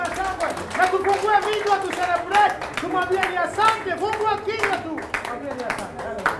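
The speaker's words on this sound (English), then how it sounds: "Now let's give the Lord another hand of praise right now" Church congregation clapping in praise at a prophetic worship meeting, a steady mass of hand claps mixed with voices and singing-like tones throughout, loud and continuous.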